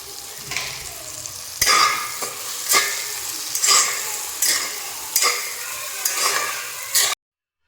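Chopped onions with a pinch of salt being stir-fried until brown for biryani: a steady pan sizzle with about seven regular scrapes of a spoon against the pan, close and loud, with no talk.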